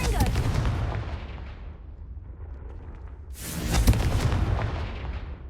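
Confringo fire spell blasts in Hogwarts Legacy, booming explosive bursts that fade into a rumbling lull before a second bright, loud blast, heard alone without speech.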